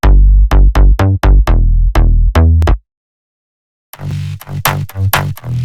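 Unprocessed Spire synth layer: a rapid run of bright, bassy stabs in a fast rhythm, a short gap of silence, then a harsher, noisier run of stabs resuming, loud and dry with no talking.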